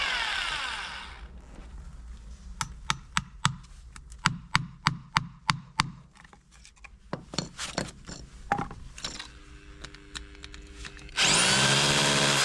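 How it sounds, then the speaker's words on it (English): A power drill boring holes through boards and a concrete slab, heard as a brief whir followed by a run of sharp, rhythmic knocking hits, then a loud sustained drilling whine at the end. "I drilled holes through both the boards and the concrete slab"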